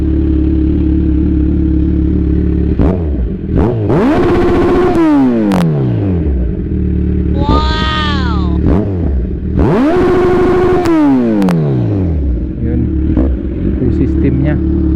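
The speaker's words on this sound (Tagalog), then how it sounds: "tunog ng full system ng C1000 na to." Kawasaki Z1000R with a full exhaust system, revved hard twice from idle with rising and falling howls, a short blip between them, loud and close over a steady rumbling idle.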